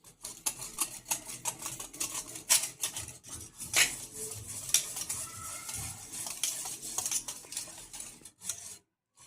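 Cooked toor dal with salt whisked in a pot for sambar, a steady run of quick scraping, clinking stirs with a few sharper knocks, close and continuous with no talking.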